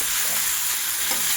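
Tapioca pearls being stirred in a hot pan for a breakfast dish, giving a steady, close, dense sizzling hiss with faint scraping throughout and no talking.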